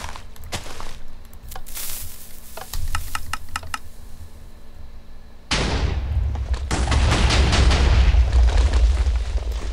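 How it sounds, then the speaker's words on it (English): A dispenser cannon firing in a video game, with a series of sharp explosive bursts early on, then a sudden loud, sustained roar of booming blasts and debris that grows heavier toward the end. "this is a dispenser cannon, as you can see. Enormously destructive."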